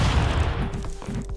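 A dense burst of rapid gunfire and booming explosions from the video game Stick Fight rumbles continuously, loud and low, like a chaotic firefight.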